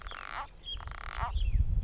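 Several toads give drawn-out, sad-sounding croaking calls, two or three rising and falling cries in close succession, heard up close with a low rumble of handling noise underneath.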